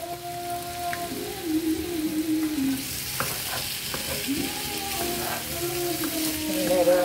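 Potatoes, bell peppers and onions fry in avocado oil in a cast-iron pan, a constant loud sizzle and crackle close by, with a few faint scrapes of stirring and no speech.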